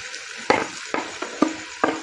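Cooked chicken frying with onion, green chillies, capsicum and coriander for shashlik samosa filling, a light sizzle under four or five distinct scraping stirs against the pan, evenly spaced and close.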